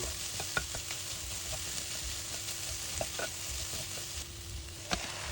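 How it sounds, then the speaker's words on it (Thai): Steady sizzling of pounded curry chili paste frying in a pot, with occasional scraping clicks of a spoon stirring, continuous and close. "เอาพริกแกงที่เราโขกไว้ลงไป ผัดในหม้อนะครับ ผัดให้มีกลิ่นหอมเลยครับ"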